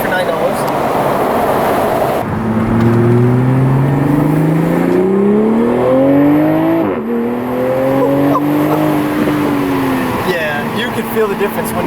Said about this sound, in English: you're still getting wind noise, but you're not getting that buffeting feeling